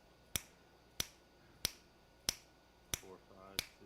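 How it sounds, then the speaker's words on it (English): Six sharp finger snaps ring out at a steady, roughly two-thirds-second pace, close and crisp against a quiet room, with a brief murmur of voice near the end. "Clap when my fingers snap."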